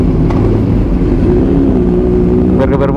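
Motorcycle engine revving repeatedly on a Sunday morning group ride, a loud, continuous close-up drone with throttle blips near the end, a voice briefly audible under the engine.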